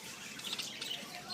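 Pet budgies and wild birds chirp outdoors at a seed-stick feeding spot, giving a steady wash of quick, high tweets and soft squawks with no clear pauses.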